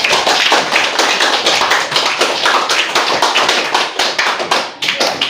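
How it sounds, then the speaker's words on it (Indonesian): A classroom group claps steadily for group 1's discussion presentation, loud, dense applause from many hands running the whole time and thinning slightly near the end. "silakan berikan tepuk tangan untuk hasil diskusi dari presentasi kelompok 1"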